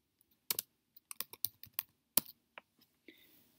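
Fingers type on a computer keyboard in short, uneven bursts of crisp, close key clicks separated by brief pauses, with no talking.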